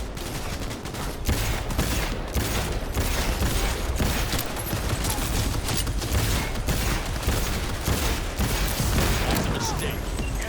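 Rapid gunfire bursts and fusillades in the video game Cyberpunk 2077, dense and loud for the whole stretch, with continuous overlapping shots and booms.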